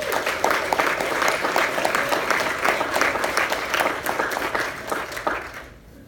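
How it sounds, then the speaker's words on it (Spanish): Church congregation applauding together, a dense steady wash of clapping that holds strong for about five seconds, then fades away at the end. "yo quiero que tú le des tu mejor aplauso al Señor"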